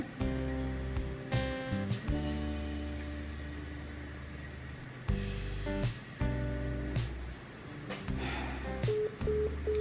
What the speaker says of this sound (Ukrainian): Хочу вам показати, як відбувається збій виклику. Набираю номер.